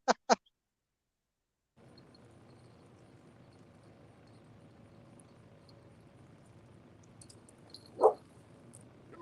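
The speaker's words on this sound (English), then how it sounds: "She's barking at me" A dog on a Wisconsin riverbank during catfishing gives two quick barks, then a quiet stretch of outdoor background noise, then one more bark near the end.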